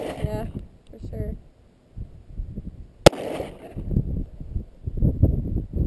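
A single sharp, loud pistol shot from an M&P Shield or Ruger LCP cracks out midway, with people talking before and after it.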